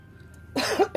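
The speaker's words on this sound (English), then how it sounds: "I just went right in with the cough anyway" A single person gives a short, throaty cough, two quick bursts close to the microphone in an otherwise quiet indoor room during a doll repainting session.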